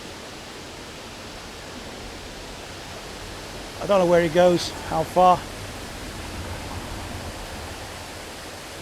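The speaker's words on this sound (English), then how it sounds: "And here's where the water's flowing" Water flows steadily through a sunken garden with ivy, a soft continuous rushing wash throughout, with a few seconds of people talking partway through.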